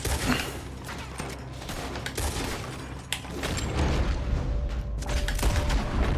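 Rapid bursts of gunfire in the video game Mafia: Remastered, shots cracking close and steady over a constant rumble of background noise, with a few sharper reports standing out and no talking.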